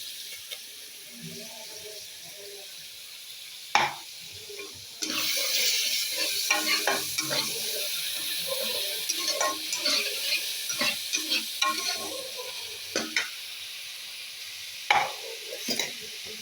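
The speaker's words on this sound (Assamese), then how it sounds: "এতিয়া মই মছলাৰ পেষ্টটো দি দিম।" Onion and garlic paste with spice paste sizzles in a hot pan as a spoon stirs it. The steady frying hiss is broken by scraping strokes and a few louder knocks against the pan, with no talking.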